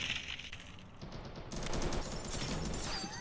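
Gunfire in a competitive video game match, rapid overlapping bursts that grow louder and denser after the first second and carry on steadily to the end.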